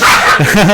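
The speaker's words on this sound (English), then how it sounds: "my dogs are joining in" Small pet dogs bark and yip in short, high bursts over steady background noise, with the sound close and fairly loud.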